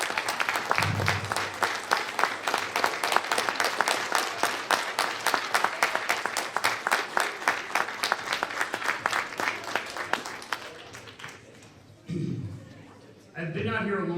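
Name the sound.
audience applause at award ceremony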